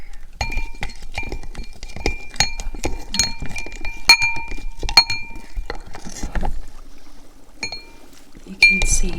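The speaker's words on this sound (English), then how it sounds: "Now we give it a good stir." A potion is stirred in a glass vessel, with bright clinks and taps of the stirrer against the glass ringing out in an uneven rhythm, close and clear, over faint speech.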